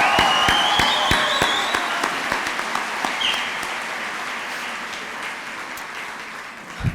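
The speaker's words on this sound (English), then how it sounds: "How about a round of applause?" An audience at a college commencement ceremony applauds a graduate, GHC Commencement 2025. Dense crowd clapping starts strong and gradually thins out, fading toward a quieter tail.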